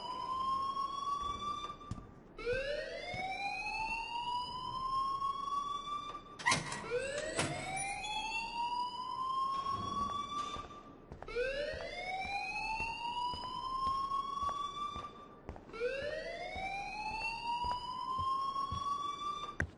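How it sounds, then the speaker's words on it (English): School fire alarm in the video game Life Is Strange, a shrill electronic whoop that sweeps upward and repeats in steady cycles about every four seconds, loud and continuous without talk. "please turn off that alarm since that's your job"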